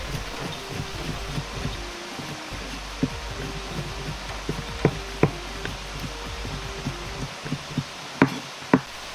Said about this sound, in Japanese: 蒸し鶏を包丁で細切りにしておきます。